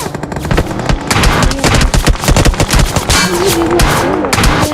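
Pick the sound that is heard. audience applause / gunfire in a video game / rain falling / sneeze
gunfire in a video game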